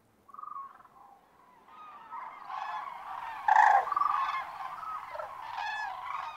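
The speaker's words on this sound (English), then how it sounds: "a group of cranes have spent the winter's dark hours safe and undisturbed" Cranes call from a lagoon in Spain in winter, a few trumpeting honks at first, then a growing cluster of overlapping calls, moderately near and alone.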